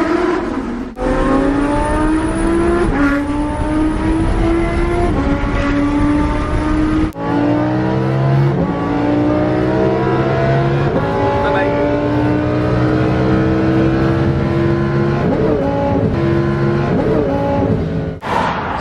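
A twin turbo Lamborghini Huracan engine revs loudly and close, its pitch sweeping up and down through repeated throttle blips with whining turbo tones, while voices talk faintly underneath.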